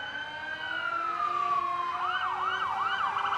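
A volunteer fire department truck's siren at the Hudson Booster Days small-town parade wails in a long falling tone, then switches to a quick repeating yelp, fairly close and steady.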